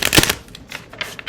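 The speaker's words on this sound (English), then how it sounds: "So I have to shuffle this in pieces." A large tarot deck being shuffled by hand in small sections, heard as a quick run of crisp, close riffling clicks and flutters in short bursts.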